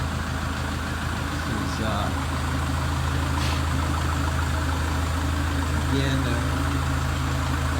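Kubota L4060 tractor fitted with an L805 front loader idles steadily in a barn, a constant low rumble running the whole time while someone talks over it.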